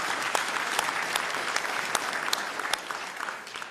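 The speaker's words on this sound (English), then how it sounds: "You can give a short applause for all my my guests already." Short audience applause for guest speakers at the REAIM 2023 conference, a brisk crowd clapping with sharp individual claps audible, steady and close for a few seconds before thinning slightly at the end.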